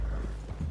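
Horse hooves clip-clop softly in Red Dead Redemption 2, a brief run of steady steps under a low rumbling game ambience.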